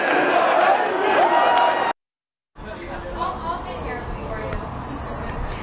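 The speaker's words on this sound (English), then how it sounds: "Hey, listen to that. The cheer continues." Crowd at a University of Arizona football event cheering and chattering in a broad continuous roar, cut off by a brief gap of silence before the crowd noise resumes.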